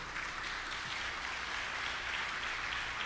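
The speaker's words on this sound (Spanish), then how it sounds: "¿Podemos darle un aplauso al Señor por eso?" A church congregation applauding after a sermon: a dense, fairly faint and steady wash of clapping that fills the whole stretch, heard from some distance in a reverberant room.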